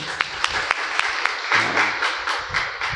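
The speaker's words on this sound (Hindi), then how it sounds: "ताली बजाए बोले।" An audience at a spiritual talk claps together, a burst of scattered hand claps with a few sharp individual claps, moderately close and steady for a few seconds.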